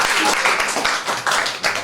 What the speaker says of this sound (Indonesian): tepuk tangan buat dirimu sendiri